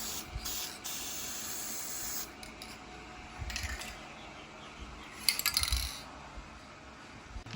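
Satin black spray paint hisses from an aerosol can onto car tail lights in short bursts, with pauses and a soft rattle between passes.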